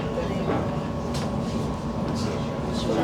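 A London C2C train rolls along toward Upminster, giving a steady, loud rumble of wheels and carriage noise with faint rhythmic clacks throughout.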